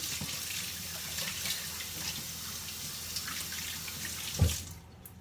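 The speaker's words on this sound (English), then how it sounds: "And just wash my hands." Tap water runs steadily into a sink while hands are washed in a home kitchen, a close, moderate gushing splash with a brief bump near the end before the flow cuts off, no talk.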